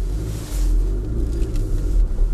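A Volkswagen Golf 7 estate with a 1.6 TDI diesel and manual gearbox pulls away, its steady low engine rumble filling the cabin and swelling slightly as it gets moving, with no talk over it.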